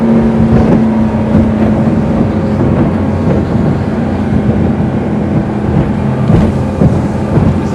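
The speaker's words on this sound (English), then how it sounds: "It's quite a big boat for a bow rider, 23 foot, but it feels like a 20 footer or maybe even smaller driving like this." A Sea Ray SPX 230, a 23-foot bow rider motorboat, turns at speed near 70 km/h: a loud, continuous engine roar mixed with rushing wind and water, close to the listener, with no talk.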